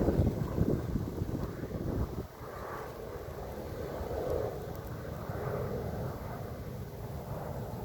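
Steady wind buffeting the microphone, a low broadband rumble throughout with heavier gusts in the first two seconds.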